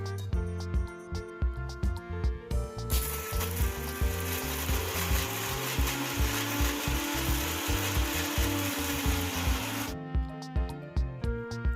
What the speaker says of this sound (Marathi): आता आपण सगळे बिस्किट्स मिक्सरमध्ये टाकून फाईन पावडर करून घेणार आहोत